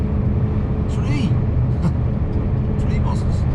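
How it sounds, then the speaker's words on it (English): Buses drive on a motorway heard from inside a Scania V8 truck, a low engine rumble with passing traffic, while someone talks over it. "Three buses."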